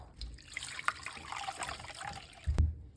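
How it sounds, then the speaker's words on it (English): Water runs and trickles into a sink while mutton liver is washed by hand, a soft steady flow with scattered drips and a dull knock near the end. "Take out the water and wash the liver."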